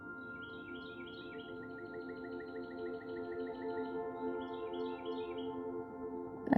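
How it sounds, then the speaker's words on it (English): Birds chirp and sing outside in faint repeated trills, heard through a steady low hum indoors with no talk. "I can hear the birds singing outside."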